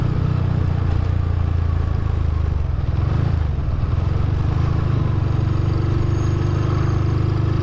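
A Honda GL motorcycle with a newly replaced carburetor runs at a steady, loud idle with a rough, throbbing low rumble and slight clatter, close up and continuous, with no one speaking.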